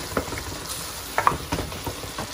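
Matar keema (minced meat with peas) sizzles and fries in a pan while a spoon stirs it, with scattered scraping clicks over a steady crackle.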